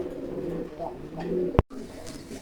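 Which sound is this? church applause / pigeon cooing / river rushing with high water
pigeon cooing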